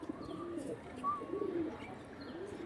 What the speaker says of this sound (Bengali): দেখুন পিওর কালশিরা পায়রা।